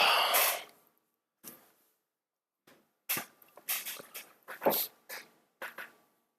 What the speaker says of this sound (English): My dog was barking outside anyway.